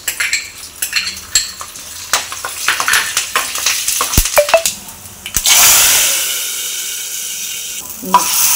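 Tempering spices for beetroot rasam crackle and sizzle in a spoonful of hot oil. Sharp pops and spoon-on-pan clinks come first, then a loud sustained sizzle swells as more goes into the pan.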